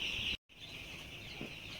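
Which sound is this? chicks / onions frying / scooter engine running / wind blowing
chicks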